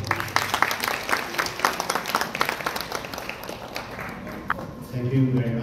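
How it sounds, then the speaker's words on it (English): Audience at a science and technology fellows convention applauding to welcome a speaker, steady moderate clapping with some voices underneath, fading out before a low murmur at the end. "Let's give her a sound of applause to Dr."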